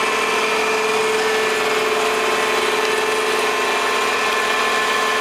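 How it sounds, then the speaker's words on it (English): A steady oil inlet pump on an EFI 64 kW vacuum oil processing system hums and whirs continuously with a faint ratcheting texture, loud and close, with no speech. "the unit is now pumping through the inlet pump over here"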